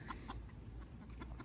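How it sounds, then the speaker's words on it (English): Chickens cluck softly in a warm coop, several hiding beneath the roosting bar, with short faint calls over low background noise. "But you got a bunch of chickens hiding underneath"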